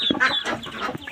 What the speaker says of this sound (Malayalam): പിന്നെ ഇവളുണ്ട് കേട്ടോ തൊപ്പിക്കോഴി.